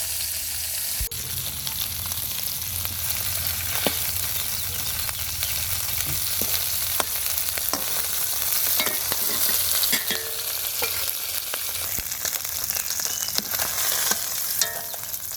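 Khalisa and ching fish fry in a pan, a steady crackling sizzle filling the whole stretch, with occasional stirring clicks and scrapes, close and continuous with no talking.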